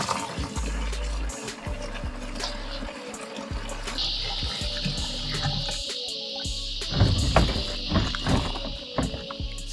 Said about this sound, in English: we half fill it with water